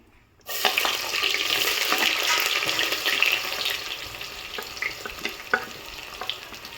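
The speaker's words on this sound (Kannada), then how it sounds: "ಮೊದಲಿಗೆ ನಾನು ಈರುಳ್ಳಿ ಹಾಕ್ತಾಯಿದ್ದೀನಿ" Onions dropped into hot oil in a pan for veg pulav set off a sudden loud sizzle that stays steady and close, with faint stirring clicks, then gradually eases.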